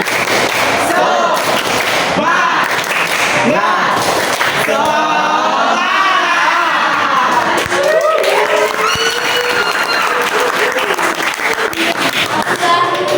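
Classroom of children doing a rhythmic spirit clap chant together, loud bursts of clapping mixed with young voices chanting and shouting throughout.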